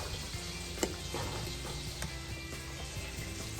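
Thick grits simmering and bubbling in a pot on the stove, a steady low sizzle with soft pops and a few sharper clicks from stirring, fairly quiet and close with no talking.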